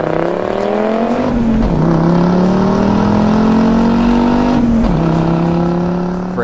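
A cheap older Audi with a turbocharged engine running at about 0.8 bar boost, a loud, close droning engine note that rises gradually, dips briefly twice and climbs again, with no talk.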